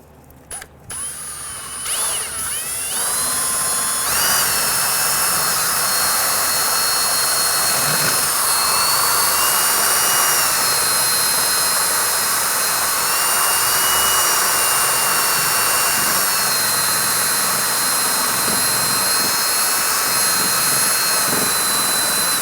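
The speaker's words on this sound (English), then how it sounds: "take a strip of sandpaper, it's a 400 grit, put it on a drill bit, and I'll actually feed this into this" A drill spins a strip of 400 grit sandpaper on its bit to clean a rear backing plate on a 1999-2004 Jeep Grand Cherokee, a loud close high whine with scratchy grinding that starts after a few brief bursts and runs continuously.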